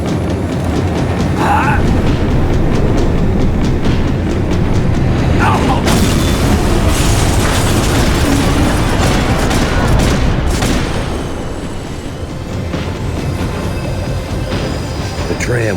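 Tram in the game Max Payne 3 rumbling and slowing down, a loud continuous mechanical roar with clanks and bursts, easing off toward the end.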